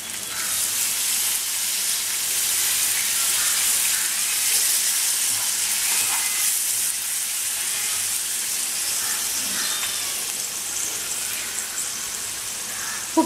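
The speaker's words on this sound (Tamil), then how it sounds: "அதோட புளிக்கரைசல் ஊற்றிடுங்க." Tamarind extract poured into a hot pan for vatha kulambu, a steady broad sizzling hiss that holds evenly throughout with a small clatter at the very end.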